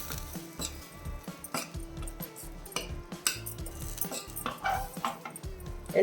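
A metal ladle scrapes and clatters against a pot while wheat flour for puttu is stirred, giving repeated close knocks and scraping strokes in an irregular rhythm, with no talking.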